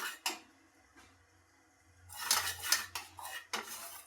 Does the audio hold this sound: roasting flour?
yes